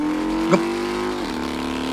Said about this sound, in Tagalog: Ako matuod motor ang naglabay oh.